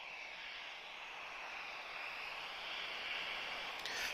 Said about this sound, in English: We have the tag 737. He's taxiing towards us now.